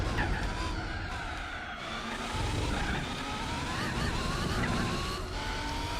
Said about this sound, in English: You hear the car trying to get the power down through the middle of the corkscrew, just the undulations